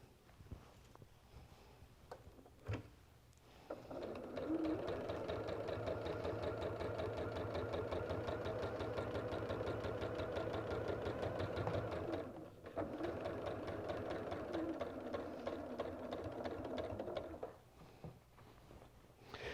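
A sewing machine stitches through a quilt at slow speed, its steady mechanical chatter running for long stretches and pausing briefly in between, close and fairly loud with no talk over it.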